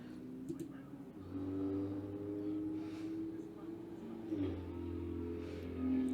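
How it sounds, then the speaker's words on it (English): A motorcycle engine hums and revs nearby as it passes, rising and falling twice over a low drone, with a voice talking over it. "If you heard that, that is a motorcycle."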